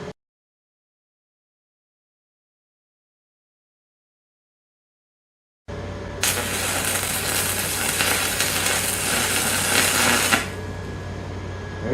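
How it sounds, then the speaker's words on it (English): A MecPow stick welder arc-welding metal, a steady harsh crackling buzz that starts abruptly after several seconds of silence, grows louder for about four seconds, then drops back to a lower hum. "We'll turn that over and see if we can weld the other side."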